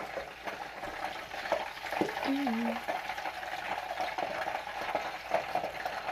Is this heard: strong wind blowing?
no